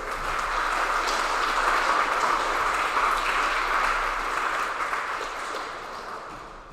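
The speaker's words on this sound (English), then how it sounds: "I'd like to thank Mrs. Wolf and give her a round of applause" Steady round of applause from a school assembly audience for Mrs. Wolf at a Veterans Day assembly. The clapping is dense and somewhat distant, runs evenly for about six seconds with no talking, and tapers slightly at the end.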